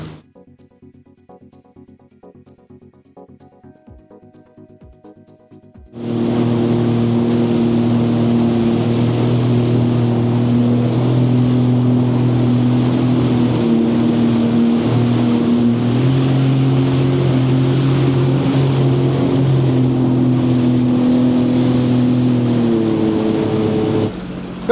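A Sea-Doo personal watercraft engine starts from a quiet idle and surges into a loud, steady roar on the Lower French River heading into rapids, with rushing water and spray mixed in, close by and sustained.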